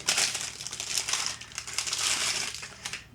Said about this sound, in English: a very large hull section here in 2 pieces, and very crinkly, crackly